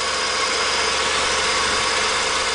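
A ute's engine idles while it warms up, a steady, even mechanical hum with a faint vibrating rattle, close and unchanging throughout.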